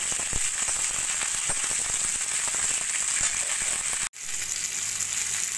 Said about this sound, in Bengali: সব কিছু দিয়ে একটু ভালো করে ভাজা ভাজা করে নেব।